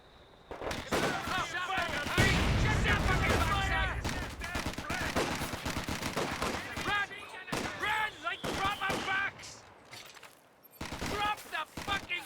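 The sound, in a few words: mortar and artillery barrage fire in Company of Heroes 2 video game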